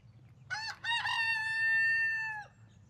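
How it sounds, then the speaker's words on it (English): A French Black Copper Marans rooster crows once in an outdoor chicken run, a clear near call with a short broken opening and a long sustained ending, heard alone over a faint low background hum. "So these are 9 French Black Copper Marans."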